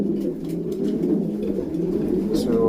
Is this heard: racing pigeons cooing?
yes